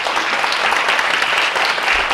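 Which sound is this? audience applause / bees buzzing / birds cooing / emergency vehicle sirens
audience applause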